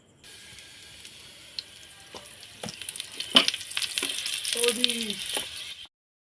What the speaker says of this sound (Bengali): তাই পরোটাগুলো আমি এইভাবে ভেজে তুলে নিচ্ছি।